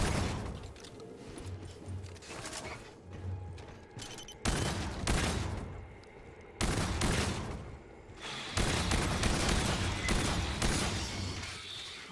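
Shotgun blasts in the co-op shooter game Fireteam Elite, several loud bursts spaced a few seconds apart over a low background hum of game ambience.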